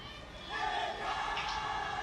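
Crowd at a women's football friendly between India and Nepal, a broad distant roar of many voices that swells into shouting and cheering midway, steady and diffuse throughout.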